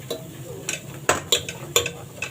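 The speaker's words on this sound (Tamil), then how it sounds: "மிளகாத்தூள் போட்டுட்டு லைட்டாக வதக்கி விட்டுட்டேன்." Spoon stirring chili powder as it sautés in a pan for kuska, a Tamil rice dish, with scattered scraping clinks against the metal and a light sizzle underneath, close and moderately quiet.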